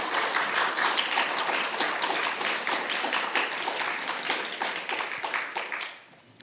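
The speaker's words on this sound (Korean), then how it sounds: "이 장면에서 좀 박수도 치어야 되는 거 아닌가요?" A church congregation claps together in a steady, dense wash of applause that holds strong for several seconds and then fades quickly into quiet, close and lively, with no speech over it.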